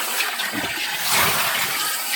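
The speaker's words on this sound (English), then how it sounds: "I just need to get the dirty water out." Dirty water gushing and splashing as a kids' bathtub is emptied outdoors on a farm, a steady close-up pour that swells midway before easing, with no talk over it.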